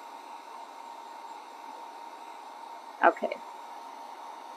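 A hair dryer blows with a steady, even rush of air, drying a Dollar Tree craft up close, while a person briefly speaks partway through.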